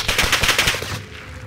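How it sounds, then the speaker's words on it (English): Rapid automatic gunfire from the video game Warzone rattles in a fast, loud burst of about eight shots over one second, then cuts off and leaves a fading tail. "got two kids shooting at me"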